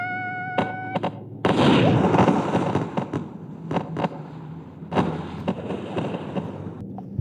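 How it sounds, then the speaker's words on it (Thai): A sudden loud cartoon bomb explosion bursts out, then scattered thuds, pops and crackles ring out over the next several seconds. "เฮ้ยระเบิด ระเบิด"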